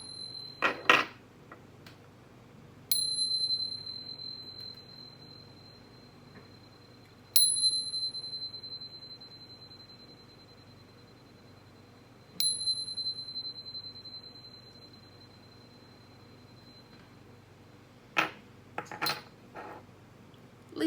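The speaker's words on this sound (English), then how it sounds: "But first, let's chime." Metal chimes struck four times at spaced intervals, each a bright ringing tone that rings out slowly in a quiet room, followed by a cluster of quicker, fainter strikes near the end.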